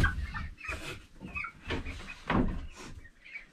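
A pet chicken gives a run of soft, close clucks and short murmuring calls in irregular bursts, fairly quiet, with a light knock or rustle in the background.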